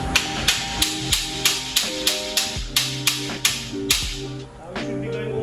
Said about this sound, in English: So I just take a hammer and I just knock it into place.